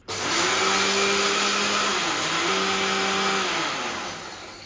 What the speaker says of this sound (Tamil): அதுவும் இது கூட போட்டு நல்லா ஒரு ஸ்ட்ரோக் அப்படியே சுற்றிக்கலாம்.